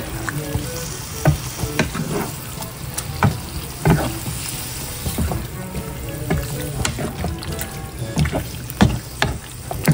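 Squid adobo with black pepper frying in a pan while being stirred, a continuous sizzle broken by repeated clacks and scrapes of the spoon against the pan, close and fairly loud.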